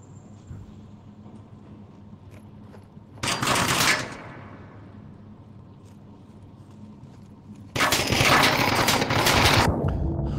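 Automatic gunfire in the Onward VR video game, one short burst that rings off and then a longer sustained burst near the end, loud and close over a quiet background.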